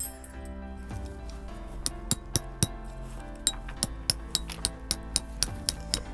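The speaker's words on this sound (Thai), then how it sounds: "ตอกสมอบกนะครับ ตามจุดต่างๆของเขาเรียบร้อย" Tent stakes are hammered into the ground while a Snow Peak Land Station tent is pitched. Sharp, metallic clinks sound at a quick, fairly even rhythm, about a dozen close strikes over a low background hum.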